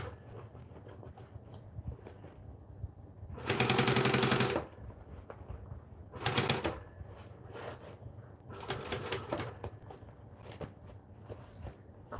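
A sewing machine stitches fabric in short bursts of rapid mechanical chatter: one long run, then several briefer ones separated by quiet pauses with faint handling noise between them.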